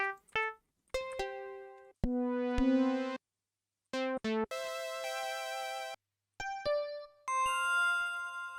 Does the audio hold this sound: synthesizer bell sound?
yes